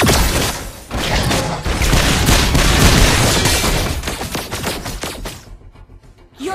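A turret collapses in the Mobile Legends game: a loud, dense barrage of blasts and booming impacts rolls on for several seconds before fading into scattered clanks and falling debris.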